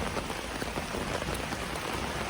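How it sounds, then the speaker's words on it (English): Steady rain falls and patters on surfaces outside a garden, a soft, even hiss of raindrops with no other sounds. "It's raining"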